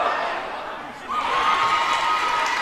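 A basketball crowd in a gym roars and shouts continuously during free throws, a dense mass of voices that rises into louder cheering partway through.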